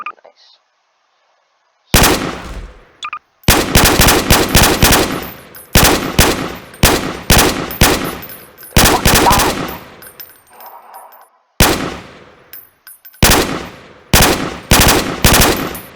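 A Spaz 12 shotgun fires in Garry's Mod, loud blasts coming in rapid clusters separated by short pauses, with a voice briefly heard early on.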